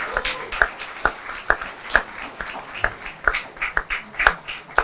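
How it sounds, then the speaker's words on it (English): Sparse applause from a small audience at the launch of the National Youth Investment and Education Program 2024: scattered individual claps, fairly distinct and moderately close, over a faint murmuring room. "A round of applause."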